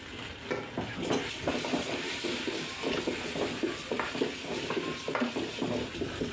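Pulao rice is stirred and fried with ginger paste and spices in a pan for chicken biryani, a continuous close sizzle broken by rhythmic scraping and clinking strokes of a spoon.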